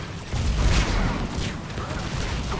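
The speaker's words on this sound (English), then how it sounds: "Mortars. They can hit you." Muffled mortar explosions rumble through a Mass Effect 3 battle, one heavy blast followed by another rolling boom, fairly distant and low in level.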